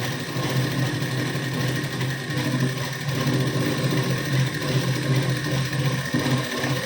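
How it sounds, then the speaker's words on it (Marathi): A sewing machine runs continuously and close, stitching a second seam half an inch from the first on a blouse, giving a dense mechanical hum with a light rattling texture throughout. "आता आपण इथं अर्धा इंचाचा गॅप सोडून इथं पुन्हा एक शिलाई देऊन घेऊ."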